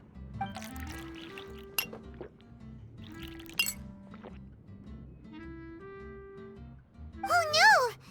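Juice is poured into a glass during a Genshin Impact cutscene, with light clinks and a brief trickle of liquid near the end, set over soft background music and low voices.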